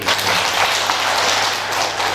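Audience applause at an evening Buddhist vihara prayer gathering, a dense, loud wash of clapping that fills the short stretch with no clear talk over it.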